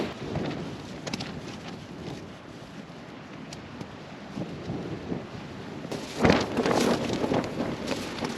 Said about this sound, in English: Wind is picking back up again